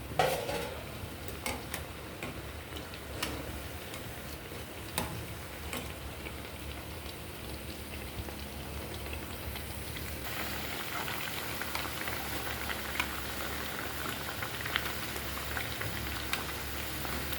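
Bottle gourd vadas made from gourd paste and rice flour bubble and crackle in hot oil, a steady close frying hiss with occasional spatula taps and clinks, continuing for the whole stretch without talk.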